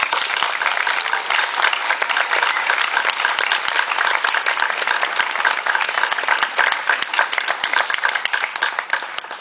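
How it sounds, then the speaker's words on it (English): A large outdoor crowd at a downtown Baraboo dedication gathering gives a loud, sustained round of applause, dense clapping that stays even throughout with no voices. "Let's give Baraboo a big round of applause."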